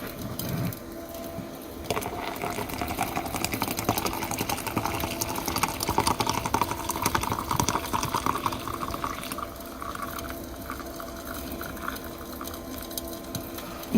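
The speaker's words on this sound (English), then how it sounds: "Alright, let's pour the rest of the water in" Water pours steadily into a pan on a van-life cooktop, making a soft, continuous trickling and splashing that swells and then tapers off, quiet and close, with no talking.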